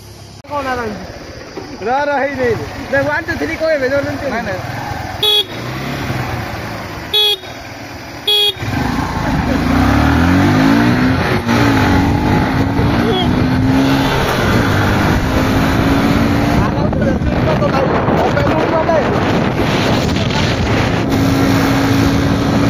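Motorcycle engines revving during a bike race on a hill road, starting with rising and falling revs and a horn, then a loud sustained roar close by, with voices talking over it.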